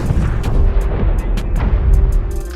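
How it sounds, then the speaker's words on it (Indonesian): A bomb blast in a film thunders close and loud, a deep rolling rumble with scattered sharp cracks of debris throughout. "dan ledakan pun terjadi"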